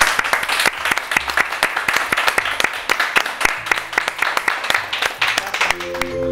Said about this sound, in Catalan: Aplaudiment para la Antonia.